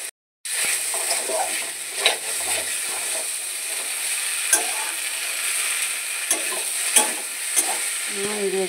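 Boiled potatoes and long beans frying in spice masala in a pan, a steady close sizzle with occasional spatula scrapes and knocks, alone without talk.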